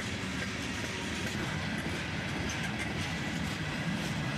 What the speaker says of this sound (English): This train was accelerating out and took quite some time to pass us by.